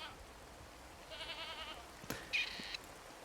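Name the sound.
goats bleating in the video game Card Survival: Tropical Island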